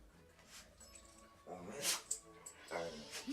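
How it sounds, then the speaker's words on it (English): Dogs whimper and let out short yips in a quiet room, faint and intermittent, mixed in with people talking. "My dogs are acting up."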